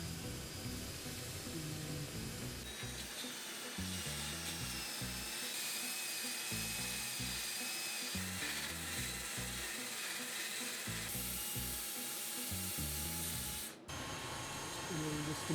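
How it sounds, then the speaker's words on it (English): Continuous whirring and grinding of a sander against a spinning hollow form of ash and epoxy, sanded up to 320 grit, with a steady high hiss and pulsing low hum throughout. "this time we sand right up to 320."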